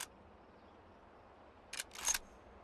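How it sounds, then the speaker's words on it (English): Mosin-Nagant bolt-action rifle in the H3VR virtual reality shooter, its bolt worked by hand: a faint click, then a quick pair of sharper metallic clacks near the end, close and isolated over quiet background hiss. "every time I close the bolt and then I grab it again, it repositions the gun"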